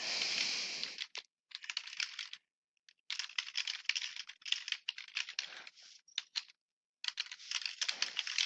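Close-up typing on a computer keyboard, quick bursts of clicking keys separated by short pauses.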